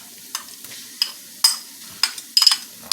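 Garlic and onions frying together in a pan, the sizzle broken by about seven sharp scraping stirs of a utensil, the last few coming in a quick cluster, all near and clear without talk.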